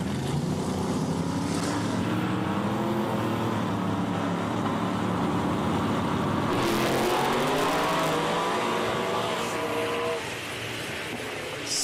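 A big-engined nitrous drag racing car roars at full throttle down the strip, a loud sustained blast that rises in pitch as it accelerates and passes, then fades slightly at the end.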